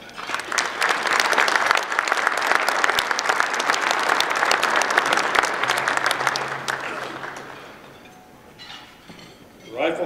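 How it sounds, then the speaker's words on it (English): A banquet crowd at a bighorn sheep hunting awards ceremony claps steadily for the event sponsors, dense and sustained for most of the stretch before thinning out, with a few glass clinks and a brief burst of clapping returning at the end. "And how about a round of applause?"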